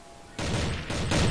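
Grenade blast in a competitive first-person shooter match, a sudden loud broadband burst that cuts in and rumbles on, with a second surge of noise shortly after.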